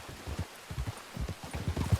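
Hooves of a running horse in the video game Red Dead Redemption 2 beat in a quick, even gallop rhythm, soft and moderately close during a winter endurance race, with no other sound on top.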